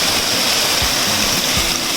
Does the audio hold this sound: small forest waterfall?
yes